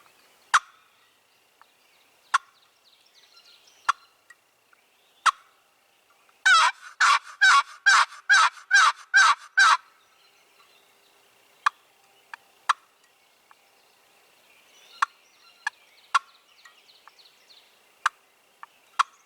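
A hunter's call imitates turkey hens for an afternoon spring hunt: a burst of about eight rapid, evenly spaced gobbling yelps in the middle, with scattered sharp single calls before and after, loud and close with no talking.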